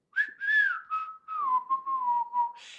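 A person whistles a short, gently descending tune from Robin Hood in clear, breathy phrases, close and alone with no other sounds.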